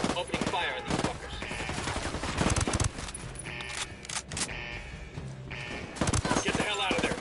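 Gunfire in the video game Ghost Recon: dense bursts of rapid automatic shots and single cracks, loud and continuous, with shouted voices mixed in and game sounds around them.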